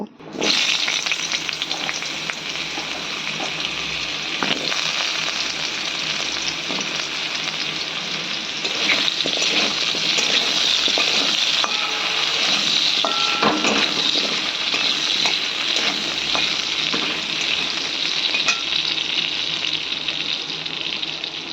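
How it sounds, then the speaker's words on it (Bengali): Potatoes frying in hot oil already used for frying pointed gourd, a steady loud sizzle and crackle that runs unbroken throughout, with no voices. "একই তেলে আমি আলুগুলো এবার ফ্রাই করব"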